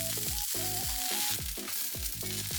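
Ground chicken soboro browning in a pan for a Japanese bento, a steady close sizzle with faint clinks and scrapes of stirring recurring throughout, no voices.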